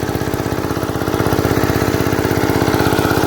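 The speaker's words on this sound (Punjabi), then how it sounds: "ਚੱਲਦਾ ਇੰਜਣ ਜਿਹੜਾ ਲੈ ਕੇ ਆਏ ਦੇ ਆਪਾਂ ਤੁਹਾਨੂੰ ਦਿਖਾ ਰਿਹਾ" A small engine pumping water from an old borewell runs steadily and close by with a fast, even chugging throb, loud and continuous throughout.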